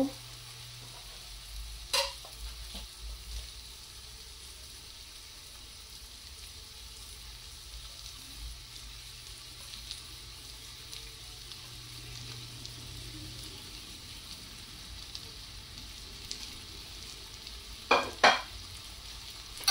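Dried fish (shutki) sizzles steadily in a pan while being stirred, a low continuous frying hiss with a few sharper scraping clicks near the start and end, quiet and close, no talking.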